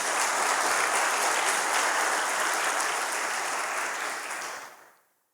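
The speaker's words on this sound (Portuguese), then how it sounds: "pode aplaudir o Senhor por causa disso." A church congregation applauds steadily during a Portuguese-language sermon, a dense, loud wash of clapping that holds for about four and a half seconds before fading out quickly.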